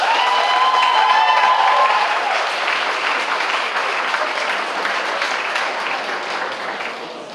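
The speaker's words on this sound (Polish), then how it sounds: "bym prosił o bardzo duże oklaski dla Angeliki Bieniek za całą organizację" Audience applause at a 2014 school prom ball (studniówka) in Kamienna Góra, a dense, sustained wash of clapping filling the room and tapering slightly toward the end, with a tonal line in the first two seconds.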